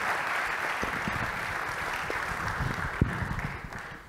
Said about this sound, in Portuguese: Uma salva de palmas para a Adriana.